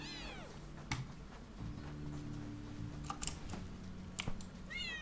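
Lynx cub meowing in the video game Paws, several high, bending meow calls near the start and end over a soft game music bed, with a few light clicks between.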